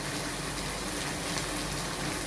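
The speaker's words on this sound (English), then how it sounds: "I'm going to add some more oil." A steady, broadband gushing wash as oil is poured into a pot for laksa curry, constant and moderately loud for a couple of seconds with no pauses or talk.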